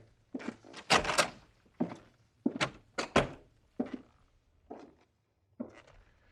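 Radio-drama door effect: a series of wooden thunks and knocks, a door being handled and shut, several short close bumps spaced irregularly with quiet gaps.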